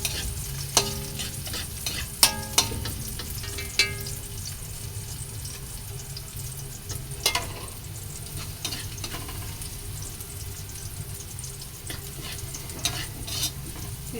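Garlic sizzles and fries in a pan, a steady close hiss running throughout with occasional scrapes and clinks of stirring, no voices.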